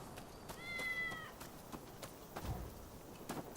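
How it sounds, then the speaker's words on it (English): A cat meows once in the Rise of the Ronin video game, a short, rising-then-falling cry near the start, heard alone over a low ambient game soundscape with faint scattered clicks. "Is this cat one of those alerted cats, or is it a normal cat?"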